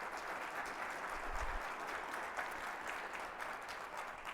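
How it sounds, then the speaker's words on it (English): Steady, even applause from an audience at a city's State of the City address in Livonia fills the room, a continuous wash of many hands clapping at moderate distance with no voices on top. "join me once again with a round of applause for our new city clerk and our new city treasurer"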